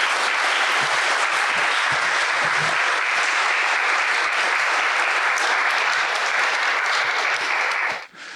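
Steady, loud applause from an audience welcoming Professor Emeritus Jerry Root, filling about eight seconds before cutting off abruptly at the end.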